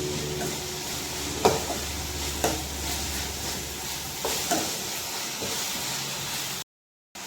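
Fenugreek leaf curry stirred in a pan, a steady sizzling hiss with a few sharp scrapes and knocks of the spoon spaced a second or so apart, close and fairly loud, cutting off abruptly near the end.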